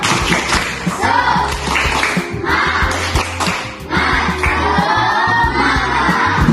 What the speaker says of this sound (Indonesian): Coba berdiri, kita melakukan tepuk semangat